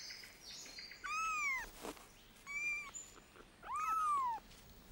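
A feral cat in an Australian forest gives three drawn-out, wavering meows, close and clear and spaced a second or so apart, over a faint background hiss of forest ambience.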